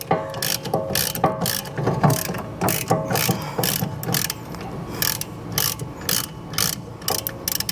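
Wrench ratcheting a stuck bolt out of a motorcycle brake caliper, a dense run of rapid metallic clicks in uneven bursts, close and fairly loud throughout.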